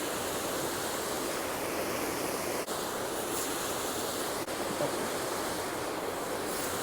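Running water pours steadily through a creek spillway into a large pool, a constant, dense rushing wash at moderate level with no breaks.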